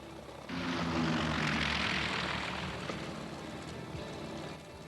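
A P-47 fighter aircraft in flight drones with a steady propeller and engine roar that rises in quickly, stays loud and even, then eases slightly toward the end.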